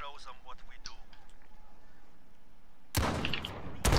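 Shotgun fire from the Modern Warfare video game: after a stretch of people talking, two loud, close blasts ring out near the end, the second cut short.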